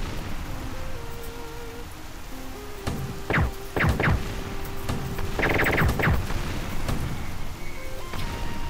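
Rain and thunder on a rooftop level of the video game Loud or Quiet: steady pattering rain hiss runs throughout, broken by several sharp cracking impacts and a low rumble.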